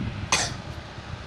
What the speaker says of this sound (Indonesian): Maaf guys, batuk.